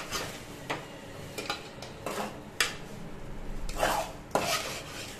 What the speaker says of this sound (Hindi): इसे भी हम अच्छे से एकदम मिक्स कर लेते हैं।